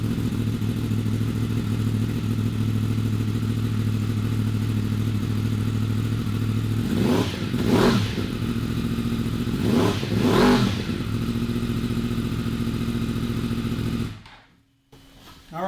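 A 2016 Yamaha R1 motorcycle fitted with a Yoshimura exhaust idles steadily and loud up close, with two sharp throttle revs rising and falling midway before the engine cuts off near the end.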